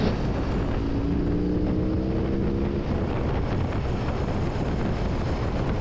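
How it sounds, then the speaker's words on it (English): Constant heavy engine drone from a BMW R18 motorcycle's 1800cc boxer engine, with strong wind rush while riding, a low steady roar throughout. "it's a big engine, it's a boxer engine, it's an 1800cc torquey motor."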